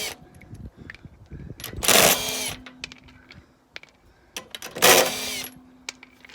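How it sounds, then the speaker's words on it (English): Two short bursts of a drill fitted with a socket adapter whirring while swapping wheels on a Kia Venga, each about a second long, separated by quieter clatter and handling noise nearby. "It's just an adapter on a drill."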